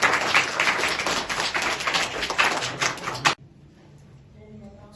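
A class at an educational academy claps for a student, a dense burst of applause that runs steadily for about three seconds, then cuts off sharply into near quiet.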